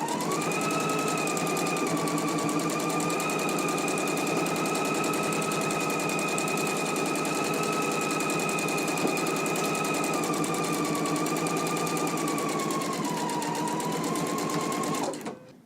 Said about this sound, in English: we can go to the sewing machine and go ahead and stitch at a 5/8 of an inch seam allowance